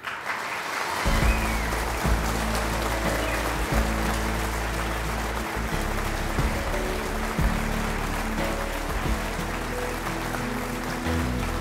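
Steady audience applause at a writing contest award ceremony, sustained clapping from a crowd filling the whole stretch at an even, close level with no talk.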